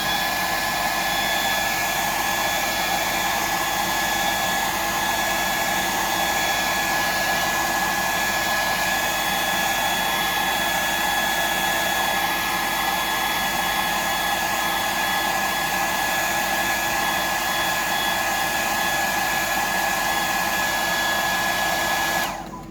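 Hair dryer running steadily at close range for over twenty seconds, drying paint on a 175mm glide mullet fishing lure; a constant loud whoosh with a faint whine, cutting off at the end, with no talk.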